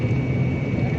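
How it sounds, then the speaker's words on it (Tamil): Airplane landing at Kamaraj airport in Chennai, heard as a steady, loud, low engine roar with a faint high whine, continuous and without voices. "இந்த ஃப்ளைட்டு போகிறது சென்னை போய் இறங்குது பாருங்கள்."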